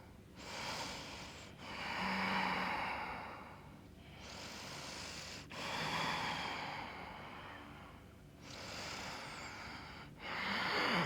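During a wake-up yoga session, slow, deep breaths come in long, even cycles of inhale and exhale. The breathing is close and soft, with no talking.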